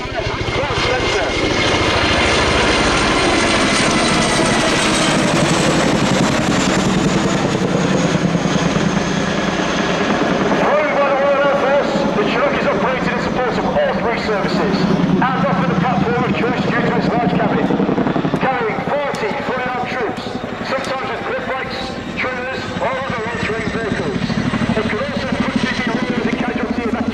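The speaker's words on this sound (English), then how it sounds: "Listen now as the aircraft closes in and the distinctive turn away to perform a 60-degree offset wing and cloud center" A display aircraft at the Royal International Air Tattoo air show roars steadily as it closes in, then its engine tone shifts as it turns away, loud and sustained throughout with a public-address voice faintly underneath.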